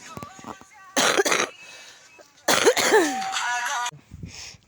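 Someone with a bad cold coughs out in a forest, giving two harsh, chesty bursts with a short quiet gap between them and a throaty, wheezy edge.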